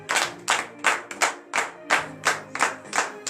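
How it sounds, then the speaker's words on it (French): A congregation at a morning prayer service in Benin claps in unison, about ten sharp, evenly spaced beats with a faint hum of voices beneath. "Donnez de vive acclamation à l'Éternel."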